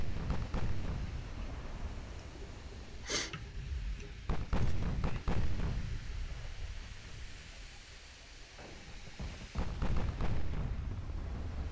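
Heavy naval guns fire in a warship battle in the game Ultimate Admiral Dreadnoughts, with repeated deep booming blasts and rumbling impacts over a constant roar of sea and engine noise.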